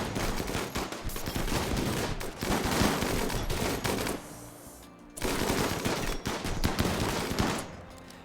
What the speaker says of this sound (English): Lots and lots of rapid firing weapons.